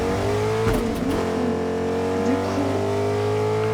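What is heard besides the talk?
Rocket League car driving in Fortnite video game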